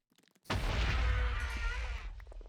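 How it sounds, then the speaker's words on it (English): A sudden loud explosion in the video game Avatar: Master of Elements, a booming blast bursting in after faint clicks and rumbling on as it slowly fades. "Explosions."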